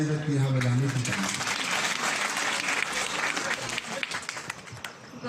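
Audience at a Hindi poetry gathering breaks into dense clapping, with a voice briefly heard at the start, then the applause thins and turns more scattered toward the end.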